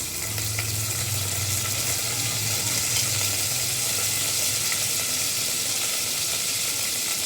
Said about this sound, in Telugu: ఉల్లిగడ్డ తాలింపు అండి,